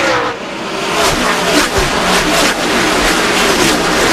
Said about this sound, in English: you get cars running side by side at this speed